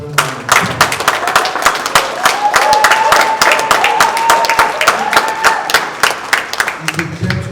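Lively applause from a crowd at a Lagos conferment ceremony for the Ooni of Ife, sustained clapping with a voice or whistle carrying over it, building and then easing.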